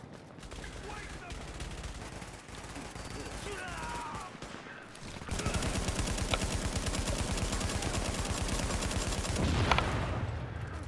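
Sustained automatic gunfire in The Division video game, shooting at an enemy's explosive box, loud rapid bursts that swell and grow denser midway and build to a sharp peak near the end.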